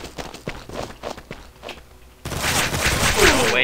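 Gunfire in the shooter game Combat Master: a run of quick footsteps and scattered clicks gives way to a dense, loud burst of automatic fire that continues steadily to the end.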